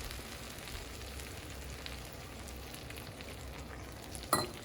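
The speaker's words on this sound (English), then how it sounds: "pour that in, let that sizzle and get nice and warm" Red wine vinegar sauce sizzles steadily in a hot pan, an even crackling hiss throughout, with a brief clatter of a utensil near the end.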